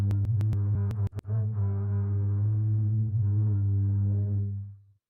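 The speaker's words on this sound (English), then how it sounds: "Yeah, sounds like a cello." AI-generated cello music from MAGNeT plays a sustained low bowed tone with layered harmonics, a few sharp clicks near the start, then fades out just before the end.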